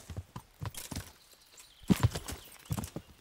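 A horse's hooves clop along in Kingdom Come: Deliverance while riding through a forest, uneven thuds recurring at a walking pace over quiet ambience.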